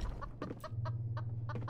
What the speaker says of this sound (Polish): Podniosłem od razu kurczaka.